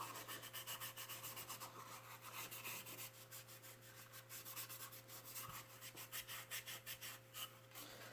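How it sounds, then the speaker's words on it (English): Scour pad scuffing a part to prepare it for hydro dipping, rapid rhythmic back-and-forth rubbing strokes, close and steady, over a faint low hum with no talking. "So you're just going to scruff it all up, make sure it's all scruffed everywhere"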